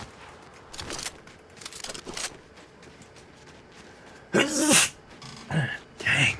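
A single sharp sneeze bursts out loudly near the end, preceded by softer rustling and small handling noises, then followed by a couple of shorter sniffy bursts close to the microphone.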